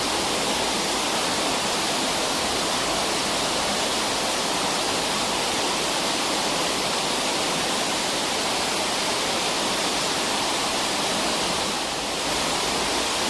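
Water rushes steadily through a Baltimore water supply outlet after pressure is relieved, a loud, even hiss-like roar that continues unbroken with no voices.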